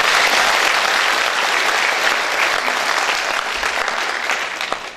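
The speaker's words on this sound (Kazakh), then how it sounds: "Оларға да бір қол шапалақтап қойылды" Theatre audience applauding the actors of a regional satire troupe after a comedy play, dense sustained clapping that fades slightly toward the end.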